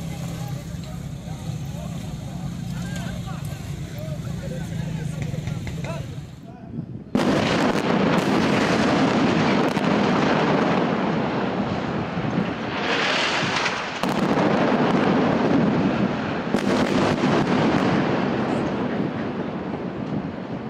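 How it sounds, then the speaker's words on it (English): Missile strike explosions on a tower in central Gaza City during wartime: a sudden loud blast breaks in after a low rumble, followed by sustained heavy roaring, crackling debris and further booms. "This is a missile attack on Palestine Tower, right in the middle of Gaza City."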